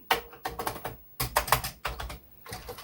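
Fingers tapping on a Commodore 64 keyboard under repair, bursts of quick clicky keystrokes in short uneven runs separated by brief pauses, close and fairly clear.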